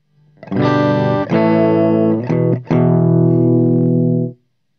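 A clean electric guitar, played with a TC Electronic Röttweiler distortion pedal in the chain but bypassed, plays a few sustained chords, bright and ringing, close and loud, with brief breaks between strums before fading out.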